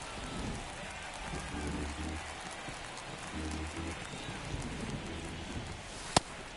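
Steady rain hisses over a baseball video game broadcast, a constant wash of falling drops with a low rumble and one sharp crack near the end.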